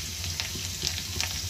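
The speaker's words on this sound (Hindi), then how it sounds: "अब इसमें हम डालेंगे लहसुन" Garlic sizzles and crackles in a hot pan, a brief, steady frying hiss with small pops.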